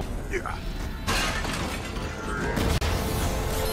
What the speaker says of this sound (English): what kind of glass is this? That cracks.